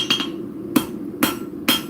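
Four crisp, ringing blows from the rounded side of a hammer texture the corner of a piece of metal cut with an angle grinder. The strikes are close and spaced about half a second apart, with no voices.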